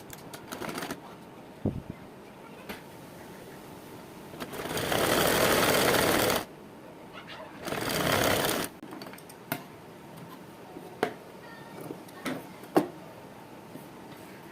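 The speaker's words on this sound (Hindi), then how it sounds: "और यहाँ हम सिलाई लगा लेंगे।" A sewing machine stitches fabric for a hanging wall organiser in two steady runs, the first about two seconds and the second shorter, with light handling clicks between them and no talking.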